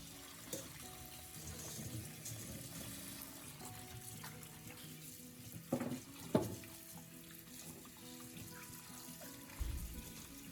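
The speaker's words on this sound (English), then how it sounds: "rinse the chilies thoroughly under running water," Chilies rinsed under a running kitchen tap, water streaming steadily into the sink for the whole stretch with a few louder splashes and knocks as they are handled.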